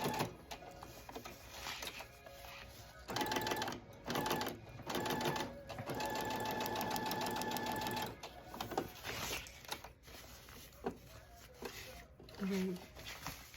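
A sewing machine stitching elastic on a cloth diaper, running in bursts of rapid whirring stitches separated by short pauses, with someone talking over it.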